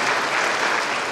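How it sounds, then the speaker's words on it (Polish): Audience applause for a town mayor at a World Youth Days diocesan gathering in the Hrubieszów area, a steady dense clapping throughout this short moment, fairly loud and without speech. "wielkie brawa mogą być też dla pana burmistrza"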